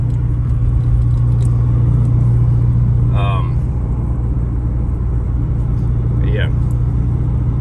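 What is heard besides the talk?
Subaru car engine running in fifth gear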